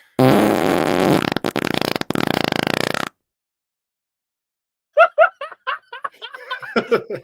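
A loud, buzzy fart sound effect sputters for about three seconds, then silence, followed by bursts of laughter and chuckling.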